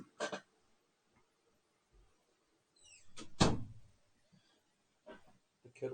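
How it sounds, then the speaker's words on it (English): A room door pushed shut indoors, with a solid thud near the middle after faint shuffling and a couple of softer knocks before and after, in an otherwise quiet space. "I'll go close the door."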